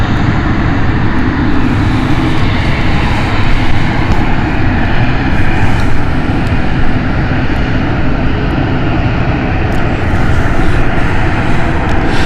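Airplane taking off from runway 09 at London City Airport, a loud, steady engine roar with broadband rumble sustained throughout, close and continuous with no voices.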